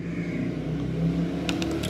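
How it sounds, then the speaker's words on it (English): Cars and motorbikes pass by on a nearby road, giving a steady rumbling engine drone with a slight swell in the middle, heard on its own without talk. "you may hear a lot of background noise, especially car and bikes passing by"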